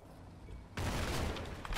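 Gunfire in the World War II tactical game Combat Mission: Battle for Normandy, a dense rumbling fusillade that swells abruptly halfway through and continues as a loud, sustained wash of shots.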